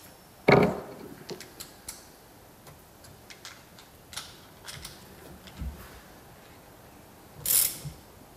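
A bolt is loosened on a VW TDI diesel's timing belt tensioner, giving scattered mechanical ticks and clicks, a sharp knock near the start and a brief louder clatter toward the end, with no talking.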